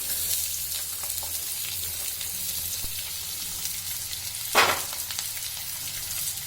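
Onion and garlic frying in a pan for a leafy greens stir-fry, a steady close sizzle with light stirring scrapes and one brief louder clatter, no talking.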